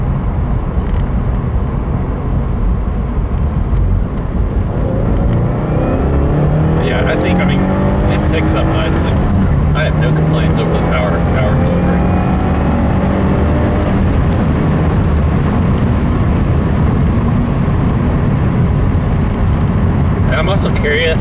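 A 2015 Subaru WRX engine revs and accelerates in second gear, a loud continuous in-cabin drone whose pitch sweeps upward through the gear, with road and wind noise underneath.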